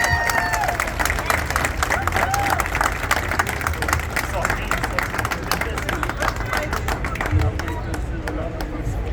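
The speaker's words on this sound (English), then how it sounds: "a round of Karachays applause in for the older ladies." A City Hall crowd at a Karachay flag raising ceremony honoring Karachay Revival Day gives sustained, dense applause at close range, steady in loudness for the full stretch, with some voices mixed into the clapping.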